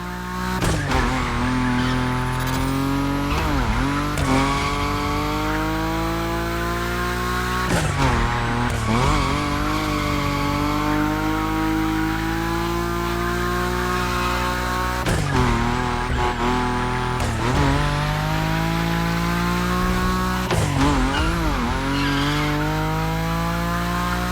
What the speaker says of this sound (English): Your Nismo is powerful enough to slide along on its own when you're at high speed, so don't be afraid to keep your foot on the gas